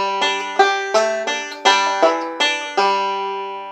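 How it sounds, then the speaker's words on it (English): Slow banjo roll with pinched notes in the middle, a string of bright, ringing plucks at an even pace, heard alone and up close. "So I'm adding some pinching in the middle."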